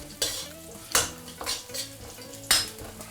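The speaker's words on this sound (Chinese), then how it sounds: "轻轻小火给它爆香。" Dried chilies, Sichuan pepper, ginger slices and garlic slices crackling gently in oil over low heat, with a few distinct scraping stirs rising above a quiet sizzle, close by and alone.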